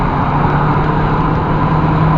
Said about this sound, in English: I'm driving at 50 miles an hour now, and if I choose to accelerate